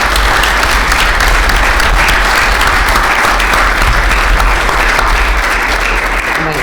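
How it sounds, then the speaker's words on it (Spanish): An audience at a volunteer-action conference session breaks into sustained, loud applause, dense and steady throughout with no pauses. "Un aplauso, non?"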